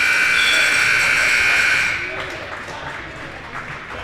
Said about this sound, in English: The buzzer will be going here.